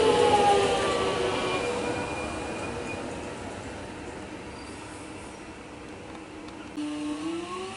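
A train pulls away from Northcote station in Melbourne with a rumbling, rolling sound that slowly fades, broken by a faint squeal of wheels near the end.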